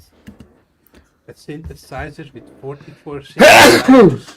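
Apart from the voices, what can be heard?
sneeze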